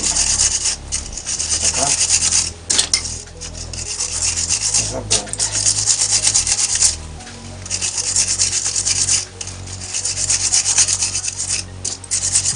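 Dirty engine parts from a Moskvich over thirty years old, crankcase and covers, are scrubbed and washed by hand in steady, close rasping strokes with short pauses, and a voice briefly speaks in between.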